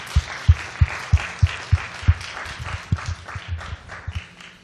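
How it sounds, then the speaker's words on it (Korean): A church congregation at a special Lent prayer revival claps in a steady, fairly quick rhythm of distinct, near claps that loosen into scattered applause and fade toward the end. "우리 하나님께 영광의 박수 한번 하십시다."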